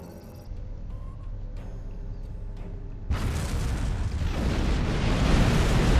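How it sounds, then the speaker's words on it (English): Detonated charges on a planet surface in the Star Trek Online game set off a sudden deep blast that swells into a broad, loud rumbling roar, building steadily after a quieter hum. "The charges on the surface are ready to detonate on your command."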